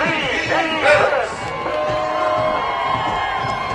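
A high school football crowd at a Douglas County versus East Paulding game cheers for the Douglas County defense: a loud, dense roar of shouts and whoops from the stands, peaking early and holding steady, with some voices rising above.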